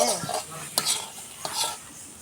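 Leafy greens stirred in a pan, a spoon scraping and clinking against the metal in a few brisk strokes over a soft sizzle, close and fairly quiet.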